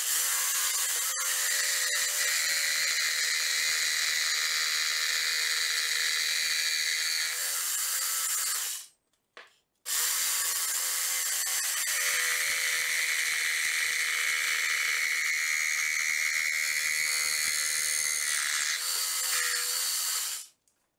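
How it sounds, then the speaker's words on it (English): Jigsaw cutting a handhold slot in wood for a farmhouse entry bench, a loud, continuous high buzzing whine that runs for several seconds, stops briefly, then starts again and continues before cutting off. "took a jigsaw and basically connected those two and made a nice slot"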